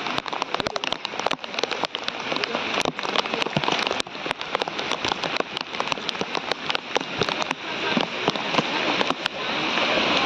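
Heavy rain pouring in a village, a dense continuous roar of drops striking surfaces with sharp splatters throughout, loud and close without letup.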